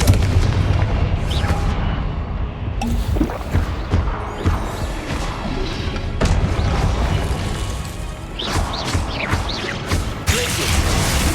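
Repeated Confringo explosion spells blast in Hogwarts Legacy, a dense run of loud booming impacts and crashes with whooshing bursts layered over continuous low rumble throughout.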